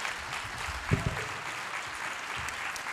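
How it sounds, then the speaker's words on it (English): Audience applause at the annual We Are Boston gala, a fairly soft, steady patter of many hands clapping with a couple of louder, sharper claps near the middle. "I'm going to clap for that."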